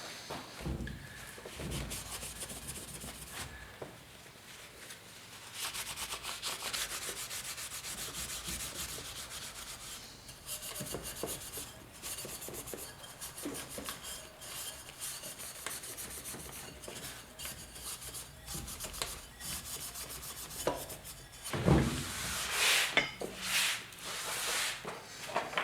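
A 1974 Yamaha RS100 fender is hand polished, a steady close rubbing and scrubbing with rhythmic back-and-forth strokes, fairly quiet, and a few louder scrapes near the end.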